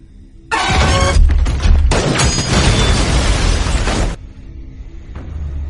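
A flammable oxygen tank is shot and explodes in a sci-fi creature film, bursting suddenly into a loud, roaring blast with crackling debris that holds for several seconds before cutting off into quiet rumble.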